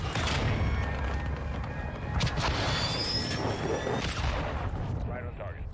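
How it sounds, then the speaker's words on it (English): A cruise missile strike from Call of Duty: Modern Warfare 2 multiplayer, heard as a dense, loud rumble of explosions and gunfire with sharp blasts near the two- and four-second marks, under a voice talking. "Drop a cruise missile down."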